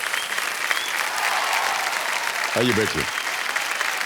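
A studio audience on a Hindi television quiz show applauds steadily and loudly as a contestant is welcomed, with someone briefly speaking over the clapping.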